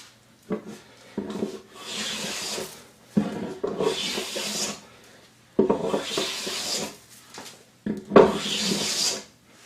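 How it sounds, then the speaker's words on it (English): Hand tool rasping along a wooden edge to cut a chamfer to a gauge line, four distinct close strokes separated by short pauses, each a loud, rough scraping rub. "I'm going to go ahead and make one more chamfer, if you will, to get it on this gauge line on the edge"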